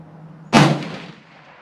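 A single loud gunshot at an outdoor shooting range aimed at a target hung on a chain with hooks, a sharp close blast followed by a short fading echo, with no talking.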